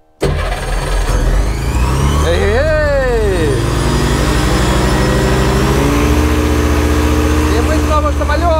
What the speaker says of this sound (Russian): Выпускается двигатель.